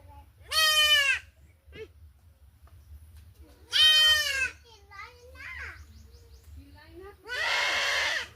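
Goats bleat loudly three times, spaced a few seconds apart, with softer animal calls between them over a steady low background hum.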